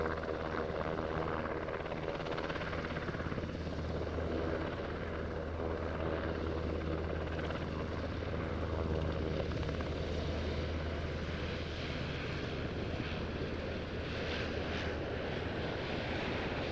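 A Swedish Air Force UH-60 Black Hawk (HKP-16) helicopter flies a solo display at the Royal International Air Tattoo 2025, its deep rotor thump and turbine roar continuous and steady from a distance throughout.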